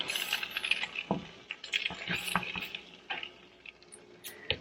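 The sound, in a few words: frozen pierogi sizzling in butter in a warped pan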